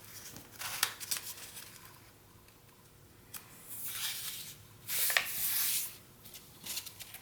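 Paper being folded for a holiday ornament, close soft crinkles and rubbing swishes that come in short bursts, with a louder crisp crease near the end.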